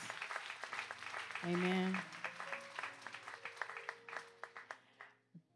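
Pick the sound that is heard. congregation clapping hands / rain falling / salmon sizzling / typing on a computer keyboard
congregation clapping hands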